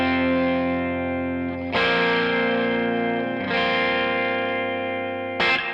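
Sustained electric guitar chords wash out under a long reverb with a pulsing, percussive Leslie rotary swirl, the chord changing twice and a brief sharp strum near the end.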